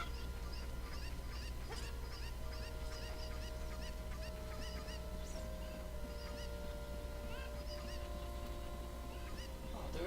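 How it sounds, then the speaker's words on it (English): A chicken in the video game The Legend of Zelda: Ocarina of Time Master Quest clucks in short repeated calls over a steady game soundtrack drone, fairly faint and close throughout. "Oh, there's a chicken."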